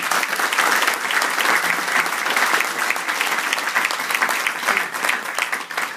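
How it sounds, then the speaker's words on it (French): A hall audience applauds their Rav, a steady, dense burst of clapping that stays loud and even for the whole stretch, with only faint murmurs of voices mixed in. "on peut l'applaudir."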